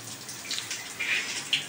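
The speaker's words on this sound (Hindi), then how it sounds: "बहुत मस्त पानी आ रहा है।" Water runs from a newly fitted plumbing tap in a steady, close hiss and splash, with a few brighter spattering bursts and no voices.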